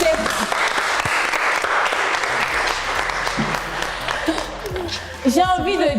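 A studio audience on a French game show breaks into steady, dense applause that carries on for several seconds, with a voice speaking toward the end.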